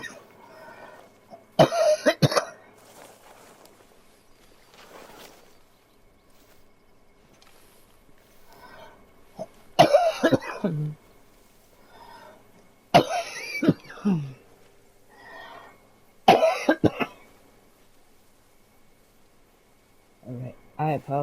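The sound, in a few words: person coughing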